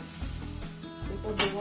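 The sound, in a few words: garlic, ginger and onion frying in a pan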